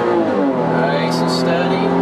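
Porsche Carrera S Tiptronic pulling hard at full throttle in second gear on a hot lap, a loud sustained engine roar with rising tone, close and continuous, a voice talking underneath.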